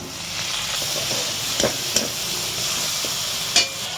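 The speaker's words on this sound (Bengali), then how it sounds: "এবার আমি পেঁয়াজটা তেলে দিয়ে দিচ্ছি" Onion and tomato fry in oil for a mint chicken dish, a steady close sizzling hiss broken by a few brief clatters of stirring.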